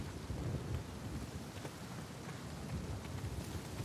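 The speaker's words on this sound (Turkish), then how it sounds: "Rüzgar var, çok fena rüzgarlı hava." Strong wind roars across an island in the video game Uncharted 4, a dense, steady rushing gust with low rumble throughout and no talking.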